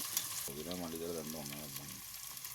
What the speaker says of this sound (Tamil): புதினா கொஞ்சம் போட்டு நல்லா கிளறி விடுங்க